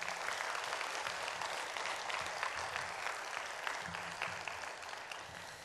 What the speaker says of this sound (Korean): 우리 다시 한번 힘내시라고 박수 한번 해주십시오